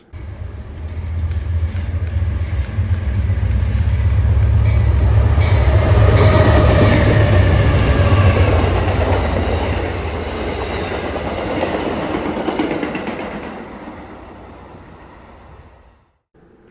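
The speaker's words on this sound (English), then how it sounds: "A train of interest was Amtrak 449, which had P42 DC number 46" Amtrak 449, led by a P42DC locomotive, passes at track speed with a loud, rushing roar and clatter of railcars that swells, holds, then fades abruptly near the end.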